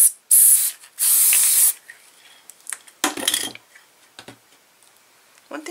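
Elmer's Craft Bond spray adhesive hisses from an aerosol can in two loud close bursts, followed by quieter taps and light clatter, with a shorter spray puff partway through.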